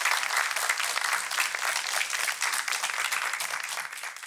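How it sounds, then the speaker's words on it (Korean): A studio audience on a Korean television show applauds actor Choi Soo-jong, a steady, even wash of clapping heard clearly and alone. "여러분 최수종 씨에게 우리 위로의 박수를 한번 보내드릴까요?"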